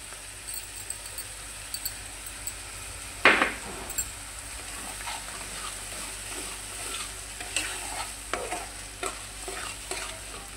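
Spices with turmeric, chili powder, salt and poppy seed paste are stirred in a frying pan, with a sharp scrape around the third second, then quieter sizzling and intermittent utensil scrapes and taps.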